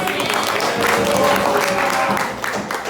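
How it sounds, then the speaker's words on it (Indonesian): A classroom audience applauds in a steady, continuous wash of clapping, moderately loud, with voices mixed in. "tepuk tangan dulu"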